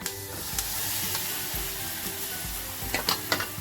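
Peanuts frying in a pan with salt, chili powder and turmeric, a constant close sizzle with occasional stirring scrapes and clinks toward the end, no talk.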